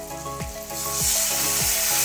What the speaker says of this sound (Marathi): कांदा टोमॅटो छान असा फ्राय झालेला आहे